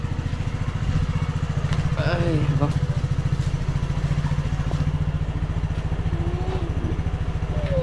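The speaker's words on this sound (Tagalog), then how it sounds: "Wala pa rin kuryente kaya sa motor muna tayo nagcha-charge." A motorcycle engine idles steadily nearby with an even, close chugging pulse, running to charge devices during a power outage, while voices speak briefly over it.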